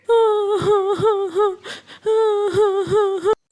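A cartoon calf cries in two long, wavering, high-pitched wails separated by a brief gasp, voiced by a person imitating the animal.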